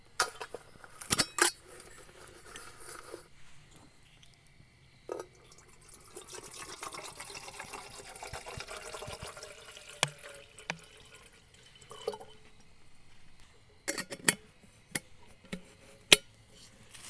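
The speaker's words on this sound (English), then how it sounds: "I'm gonna get some water in that kettle to where I can make some of that hot tea" Water poured into a kettle outdoors for campfire tea, a soft trickling fill running through the middle, with sharp clinks and knocks of the metal kettle at the start and toward the end.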